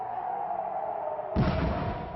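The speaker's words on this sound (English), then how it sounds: "I heard the boom. It was farther away than the last bomb." A faint, distant bomb explosion breaks in suddenly and rolls on as a low, sustained rumble after an air raid siren; nobody speaks.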